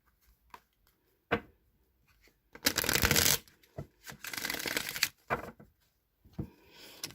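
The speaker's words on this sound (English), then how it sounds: "One more shuffle here." A tarot card deck gets shuffled up close: scattered taps and card handling, then two longer riffling bursts, fairly quiet overall with no voices.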